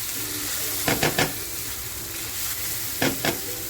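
Chopped onion and garlic sizzle steadily in a hot pan for dhaba-style chicken tikka masala, with a few sharp scraping stirs of a spatula breaking through the continuous frying hiss.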